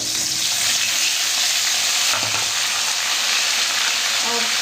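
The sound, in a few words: green chillies and mushrooms frying in hot oil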